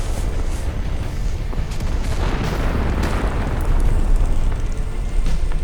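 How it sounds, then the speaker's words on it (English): Thermobaric rockets from a Solntsepek flamethrower system cook off in a forest, a loud, continuous roar of blasts and crackling bursts with deep rumbling throughout. "The Solntsepek's thermobaric rockets continue cooking off, leaving absolutely nothing of the highly dangerous system."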